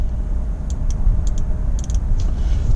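A fuel injector being tested on the bench, giving a few small sharp clicks, some single and some in quick pairs, set over a steady low background hum.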